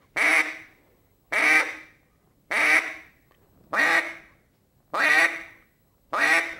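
A duck call blown in slow single quacks, six evenly spaced nasal honks about a second and a quarter apart, each dropping off quickly, close and clear with no other sound.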